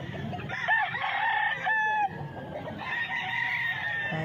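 A rooster crows once, loud and close, over a busy background of clucking fowl and faint ambient noise.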